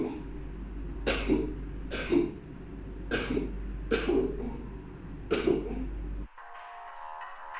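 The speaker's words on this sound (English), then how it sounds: "It sounds like something trying to imitate the sound of a cough and failing." A strange, fake-sounding cough repeats in a recording, about six evenly spaced harsh bursts over a low hum that then cuts out, leaving a fainter tonal sound.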